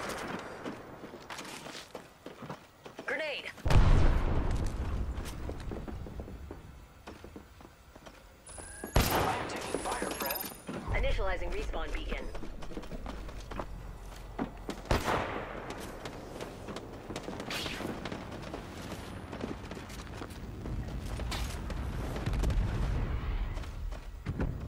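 Video game gunfire comes in scattered bursts and single sharp shots, some loud and close, others farther off, with quieter gaps between volleys and a faint high electronic tone partway through.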